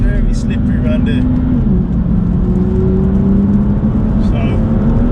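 A BMW M2 running on DS2500 exhaust tips gives a steady, loud low engine drone with a slight rise and fall in pitch. It comes from inside or near the car, and faint voices sit in the background.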